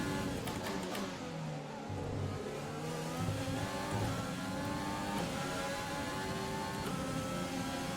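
An F1 race car engine from the F1 2020 game, run at the Australian GP, drones steadily at mid-level with shifting harmonic pitch as it revs through corners, continuous for the whole stretch with no talk over it.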